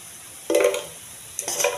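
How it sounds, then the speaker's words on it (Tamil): Onions sautéing with a little salt in a pan for wheat upma give two short bursts of stirring and sizzling, close and fairly loud, over a quiet background. "லேசும் உப்பு கூட போட்டு நீங்கள் வதக்கிக்கலாம்."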